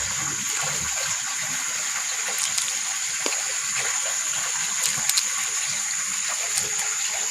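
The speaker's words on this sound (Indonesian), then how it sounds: "Airnya teman-teman." Water flows steadily outdoors at a rural hut, a constant rushing gush with faint clicks and small splashes scattered through it and no voices.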